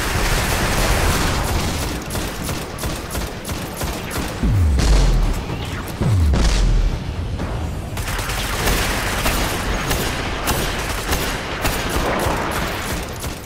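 Rapid gunfire and heavy grenade booms fill a Destiny firefight, with dense bursts of shots throughout and two deep, loud explosions partway through.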